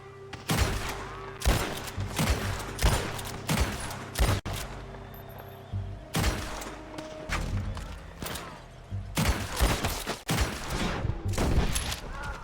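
Lawmen firing on the player in Red Dead Redemption 2 in the Ambarino region: repeated loud gunshots in irregular bursts and volleys, some overlapping like a fusillade, spread across the whole stretch with faint game ambience between shots.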